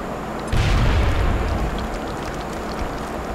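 A grenade explodes in XCOM: Enemy Within, one deep, booming blast that bursts suddenly and then rumbles away slowly, with no voices over it.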